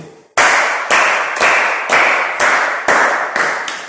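A group claps in slow unison, about eight loud, sharp, evenly spaced beats of rhythmic clapping that start abruptly after a brief quiet moment and continue steadily.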